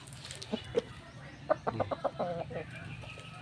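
A hen clucks in a quick series of short, throaty notes, close by, with a few spaced clucks leading into a busier burst.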